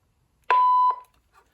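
One loud, clear electronic beep from an early digital answering machine lasting under half a second, steady in pitch, alone against near silence.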